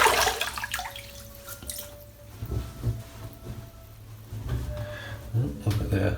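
Water splashes and drips as a face is wetted before shaving at a sink, with irregular close splashing and trickling plus a faint background tone between splashes.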